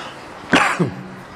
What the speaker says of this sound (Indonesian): Minta maaf, ini agak batuk ya.